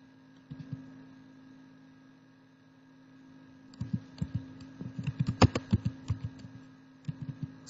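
Keys on a computer keyboard tapped to enter a command in Windows, a few isolated clicks, then a quick close burst of typing over a low steady mains hum.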